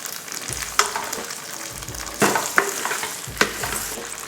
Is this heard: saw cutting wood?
no